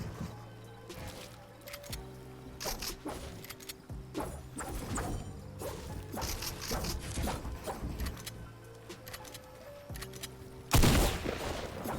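Repeated gunshots from a Fortnite battle, sharp bursts at irregular intervals over steady game noise, with a louder, denser burst near the end and no talk.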